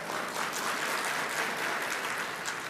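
Audience applause during an Indonesian speech by Sri Mulyani on economic prospects, a dense steady wash of many hands clapping that stays loud and even for the whole stretch.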